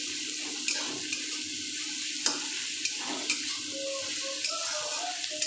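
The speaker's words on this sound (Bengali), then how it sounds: "পেঁয়াজটা ভাজা হোক" Onions frying in oil with a pinch of sugar for a Bengali mutton curry, a steady soft sizzle with occasional clicks of stirring, close and constant.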